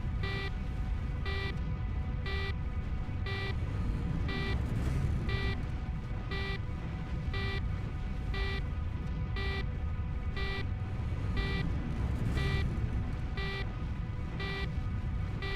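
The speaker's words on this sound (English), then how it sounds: "That beeping's getting annoying as shit." An aircraft altitude warning beeps in a regular repeating pattern, about one short tone every second, over a loud steady engine drone.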